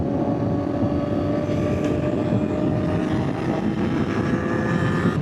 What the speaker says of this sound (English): go through the revs, let you hear the sound of that exhaust.